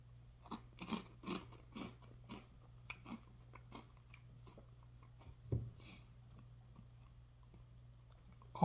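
Goldfish Crisps being crunched and chewed up close, a run of crisp, faint bites and crunches in an uneven rhythm that thins out and grows sparse toward the end.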